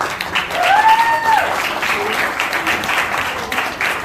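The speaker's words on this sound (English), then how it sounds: "a huge round of applause for this wonderful person" Applause at an interns' felicitation ceremony at a school, steady dense clapping from an audience throughout, with a brief voice and a cheer or whistle near the start.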